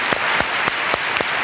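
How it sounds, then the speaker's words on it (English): Audience applause at a business forum event, a loud, dense burst of clapping from a large crowd with a few sharper claps standing out at regular moments. "A big round of applause"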